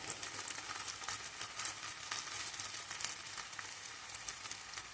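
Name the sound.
ginger garlic paste frying in a pan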